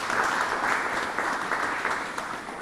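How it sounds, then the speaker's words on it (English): A room at a county freeholder meeting applauds a newly elected freeholder, with a dense, steady patter of many hands clapping close by that eases slightly toward the end. "Give her a round of applause, yes."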